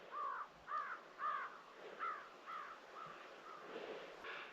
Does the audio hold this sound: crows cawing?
yes